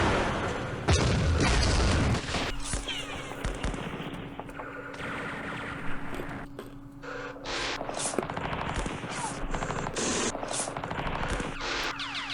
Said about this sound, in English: Damn machine guns.